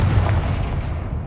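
A Confringo spell explosion in Hogwarts Legacy during a troll fight, a heavy booming blast with a deep rumbling low end that fades over about a second, loud and alone.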